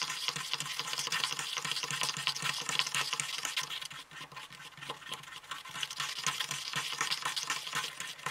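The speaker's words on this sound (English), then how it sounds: "Now you're going to continue to mix for 2 to 3 minutes." Glow-in-the-dark paint mixture being stirred continuously in a container, a close, steady scraping and swishing with a rapid rhythmic texture, briefly easing midway before resuming; no voices.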